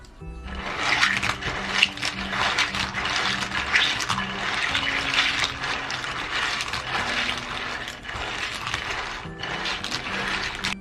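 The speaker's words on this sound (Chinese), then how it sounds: "我们把花蛤再给它清洗一遍" Clams being rinsed in water, with steady splashing and sloshing that continues unbroken throughout and stays close and moderately loud, without any talking.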